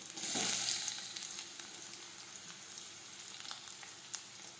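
Chopped onion, tomato and ginger sautéing in a pan for urad dal, a loud burst of sizzling as they hit the oil, then settling into a softer steady frying crackle close by with no talking.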